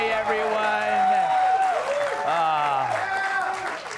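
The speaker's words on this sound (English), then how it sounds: "They're basting me with applause." Studio audience applause during a late-night television talk show, a sustained wash of clapping and crowd noise with a voice or cheering carrying over it throughout.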